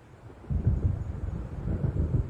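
Storm thunder rolls in the video game Alan Wake as a low, rumbling run of uneven bursts that starts abruptly and goes on steadily, with wind-like noise behind it.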